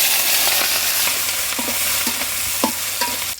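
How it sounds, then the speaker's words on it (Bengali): Prawns fry in soybean oil with a loud, constant sizzle, broken by a few light scrapes and knocks as they are stirred in the pan. "প্রথমে চিংড়ি মাছগুলো বাজ্যে নেব"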